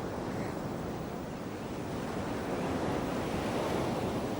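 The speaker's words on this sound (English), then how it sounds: "The surf of the Coromandel coast is dangerous." Heavy surf breaks on the dangerous Coromandel coast, a steady, loud roar of waves with gusty wind buffeting the microphone and no voices.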